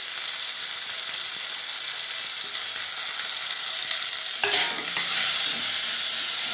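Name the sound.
sautéing ginger, garlic and mint in a pan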